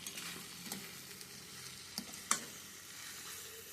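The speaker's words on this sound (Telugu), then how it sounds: "ధనియాల పొడి వేసేసి బాగా మిక్స్ చేయండి" Brinjal curry with green masala and freshly added coriander powder being stirred in a hot pan, a soft continuous sizzle with scraping spoon strokes and a couple of sharper clinks against the pan.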